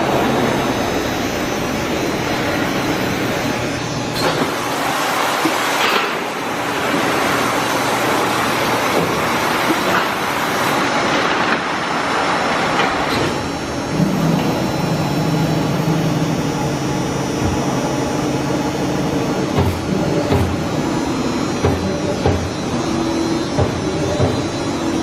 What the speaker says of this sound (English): Here is the cycle loader putting a new sheet onto the machine.